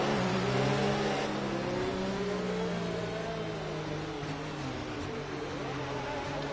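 Race cars circulating behind the safety car at the Hungary circuit in a sim racing game, a steady engine drone with wavering pitch as the cars weave to keep heat in their tyres, no talk.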